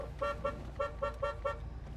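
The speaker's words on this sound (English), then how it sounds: "Horn." Horn of a 1978 Chevrolet Corvette Pace Car Edition, six short, evenly spaced toots in quick succession, sounding close and clear with no talking.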